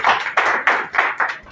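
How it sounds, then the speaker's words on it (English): Clapping at a valediction and prize distribution ceremony, heard as a few loud, rhythmic bursts of hands in quick succession, close and with no talking over it. "Give a huge round of applause for him"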